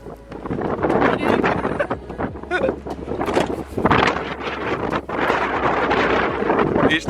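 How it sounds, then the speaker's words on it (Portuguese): Strong gusts batter a microphone, producing loud, rough, continuous rumbling and buffeting with surging peaks, and a voice speaks faintly beneath it. "Eu tenho que filmar cá dentro porque está uma ventania impossível."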